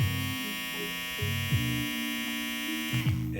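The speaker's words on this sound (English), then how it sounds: "Here is the clipper with the boost button." A red TPOB GO! hair clipper with its boost button engaged runs at close range with a steady electric buzz and hum, broken by a few short clicks and bumps, then the motor cuts off near the end.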